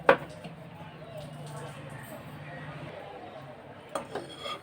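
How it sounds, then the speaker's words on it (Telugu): A metal kadai is set down on a lit stove with a sharp clank, followed by faint clinks and a low burner hum, while a person talks over it. "స్టవ్ వెలిగించి కళాయి పెట్టాను"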